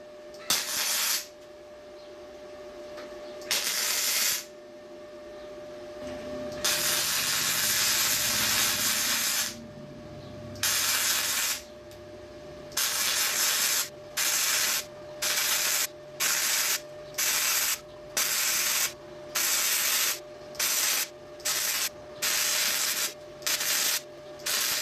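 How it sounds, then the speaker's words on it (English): A flux core wire welder with a hardwired torch strikes a series of arcs: a few longer crackling bursts, then many short regular bursts of sizzling spatter with brief pauses between, close and loud. "let's do some welding, see if the thing actually fires up"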